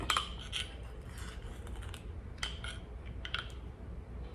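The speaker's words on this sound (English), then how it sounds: "I need to rinse my spoon off" A spoon clinks and scrapes against dishes while being rinsed, with light metallic taps scattered over a steady background wash at close range, no talking.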